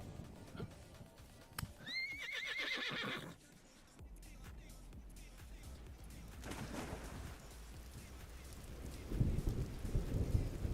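A horse in a survival video game gives a high, shaky whinny near the start, with clip-clop hooves, rain and low thunder rumbling through the rest, moderately quiet and without talk.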